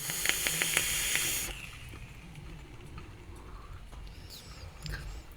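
A vaping hit drawn on a Coil Art Mage V2 RTA with a seven-wrap coil gives a loud crackling hiss for about a second and a half, then cuts off, leaving faint low background noise.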